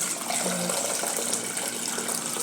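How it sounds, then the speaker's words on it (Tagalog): Water runs from a tap into a cooking pot of sautéed garlic and onion for a corn soup, a steady close splashing gush that fills the short stretch with no talk. "Tapos, lalagyan ko na lang siya ng tubig."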